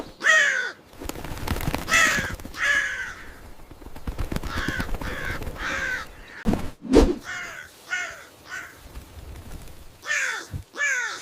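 Several crows caw in repeated harsh bursts, calling in loose groups with short pauses between them, close and fairly loud against faint background noise, with no talking.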